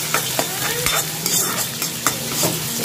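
Chopped onion frying in a pan toward golden brown, a constant sizzle broken by regular scraping strokes of a spoon, close and fairly loud with no voices.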